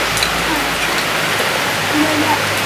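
A rainstorm that has eased to steady rain gives a loud, even wash of noise, with people talking over it.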